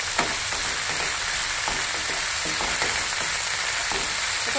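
Ginger-garlic paste with a few raisins frying in a pan, a dense, even sizzle with occasional soft stirring taps close by, no voices.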